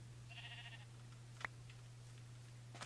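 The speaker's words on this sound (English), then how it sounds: "they got a sheep farm going on over there." A sheep in the Minecraft video game gives one short, faint bleat over a low steady hum, followed by a brief click.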